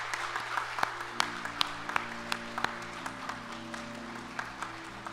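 Church congregation applauding in encouragement during a Sunday morning worship service, steady clapping throughout with sharp individual claps standing out over a low sustained organ or keyboard tone, fairly close and moderately loud.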